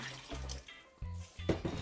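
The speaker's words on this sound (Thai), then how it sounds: "ก็จะเทน้ำใส่หม้อแล้วก็ตั้งไฟ เตรียมที่จะนึ่งขนมค่ะ" Water poured from a tap into a cooking pot to prepare for steaming purple sweet potato cupcakes, short splashing bursts in three quick runs, close and fairly quiet.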